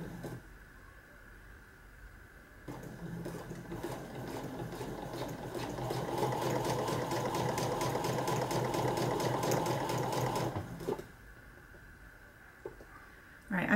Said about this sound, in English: I'm going to do a couple stitches back.